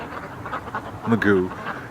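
A sick duck named Magoo among the flock gives a few short nasal quacks close by, with a person talking over and around the calls.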